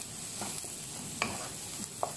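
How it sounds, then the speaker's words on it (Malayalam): Onions sautéing in a non-stick pan for prawn masala, with a quiet, low sizzle and a few soft stirring scrapes and taps; no voices. "ഇത് നന്നായിട്ട് ഒന്ന് പച്ചമണമൊക്കെ മാറി വരുന്നത് വരെ ഇതൊന്ന് വഴറ്റി കൊടുക്കുക"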